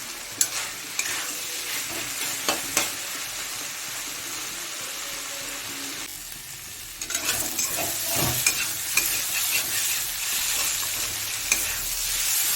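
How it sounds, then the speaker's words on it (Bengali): Snake gourd and potato pieces frying over a high flame, a steady sizzle with repeated stirring scrapes and taps, the hiss swelling louder in the second half, no voices. "ফ্লেমটাকে বাড়িয়ে 2-3 মিনিটের মতো ভালো করে ভেজে নেব।"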